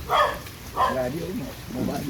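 A couple of dog barks ring out, fairly close, with people talking and a steady outdoor background in between.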